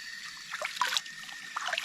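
Water trickles and drips softly and steadily at an outdoor spot in Sinuda, Kitaotao, Bukidnon, where the climate is very cool, with faint splashes scattered through the short stretch.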